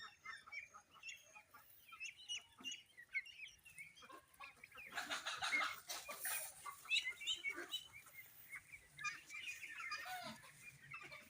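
A flock of white Pekin ducks on a farm quacks in a busy, overlapping chatter, rising to a louder burst midway, fairly close.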